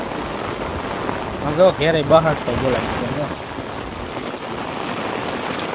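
Steady rain pours down in a village, a constant hissing wash of drops that continues throughout, with a voice briefly speaking over it near the middle.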